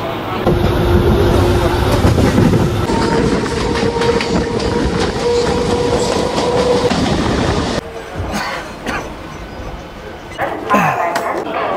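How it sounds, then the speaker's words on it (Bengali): A passenger train pulls into a station platform, its loud, steady rumble and wheel clatter filling most of the clip before easing into quieter rattles and platform bustle near the end, with voices faintly underneath. "ট্রেন এই যে ঢুকে গেল।"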